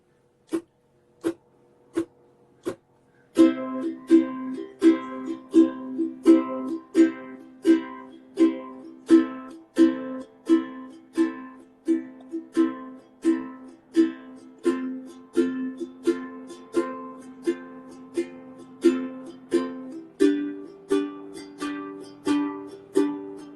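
Steady strummed ukulele chords, single strokes at first and then a fuller rhythmic strum that continues evenly, played close and alone.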